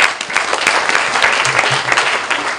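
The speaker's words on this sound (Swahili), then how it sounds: "Basi tumpigie Bwana Kioni makofi." A crowd at a Kajiado political gathering applauds for Mr Kioni, steady dense clapping that continues for the whole short stretch, loud and close, with no speech over it.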